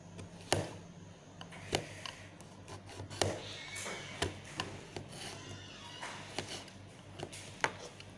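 Smoothing the sharp cut edges of a plastic syringe tip, with soft rubbing and scraping broken by sharp taps at a steady rhythm, close and fairly quiet.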